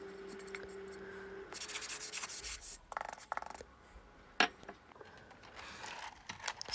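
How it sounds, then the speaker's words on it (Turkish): Sanding the edges of a mortar tabletop fireplace by hand, with quiet bursts of rasping, scratchy rubbing strokes separated by pauses, close and fairly faint. "Kenarlarını da daha pürüzsüz bir görüntü için zımparalıyorum."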